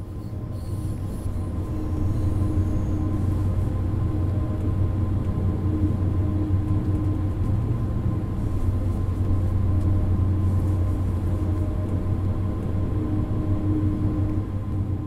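A continuous loud rumble of a Siemens third-generation intercity express train running at speed in Train Sim World 2, with steady wheel noise and a faint high whine, no voices.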